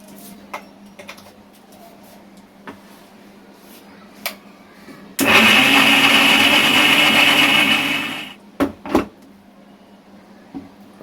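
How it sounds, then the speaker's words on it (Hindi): A mixer grinder blending tomatoes without water roars loudly for about three seconds, then cuts off, with a few quiet clicks and taps before and after. "इतने टमाटर की तो बनाने वाली हूँ पेस्ट, मिक्सर में डाल दूँगी।"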